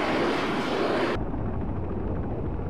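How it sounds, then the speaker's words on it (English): A VTOL airplane at an aircraft carrier in the game ARMA 3 gives off a loud, continuous jet roar that abruptly turns duller and lower partway through, with no voices. "VTOL airplanes usually leave and enter the aircraft carrier on the port side"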